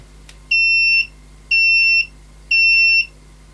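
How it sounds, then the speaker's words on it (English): A DIY 18650 lithium-ion battery capacity tester finishes its run with three identical electronic beeps, each about half a second long and evenly spaced a second apart. They sound clear and close over a faint background hum. "it should beep, and it should be a quicker beep this time"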